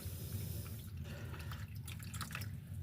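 Water being poured to prime an aquarium pump, a steady close trickle and dripping with a continuous low wash of liquid throughout.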